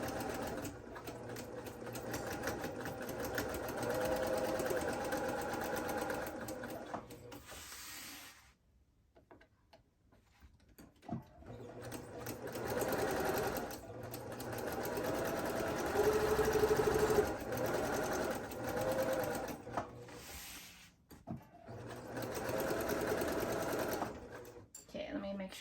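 A domestic sewing machine runs a quarter-inch seam on a washable wet bag, a loud steady mechanical whir that pauses briefly twice before resuming, with a voice talking over parts of it.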